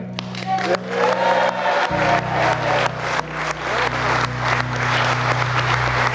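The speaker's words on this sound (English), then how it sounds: "Kiss the bride, clap and cheer." Wedding guests at The Vu in Bathgate burst into clapping and cheering after the kiss, a dense, lively mix of claps and whoops over a low steady hum of music, loud and continuous throughout.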